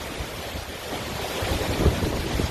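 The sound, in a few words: strong wind and blowing rain during flooding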